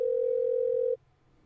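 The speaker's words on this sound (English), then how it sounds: "I wonder if this toy phone can make outside calls." A toy phone in the Parasite Eve II video game gives off a steady electronic dial tone for about a second that cuts off abruptly, leaving faint quiet.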